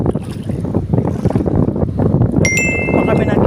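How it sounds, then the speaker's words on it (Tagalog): Strong sea wind buffets the microphone in a steady roaring rush near the water from a boat, with a brief high whine or ringing tone joining near the end. "Lakas ng hangin pa dito, mahangin pa."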